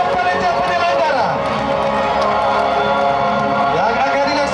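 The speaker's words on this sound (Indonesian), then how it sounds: "Mari kita berikan tepuk tangan" An audience at a high-school arts and literature festival in Kupang regency applauds steadily, a dense, continuous wash of clapping and crowd noise under an amplified announcer's voice.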